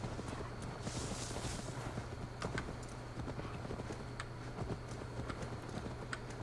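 Steady clip-clop of a horse's hooves in Assassin's Creed Valhalla, a rapid even trot running the whole stretch at moderate loudness with no talk.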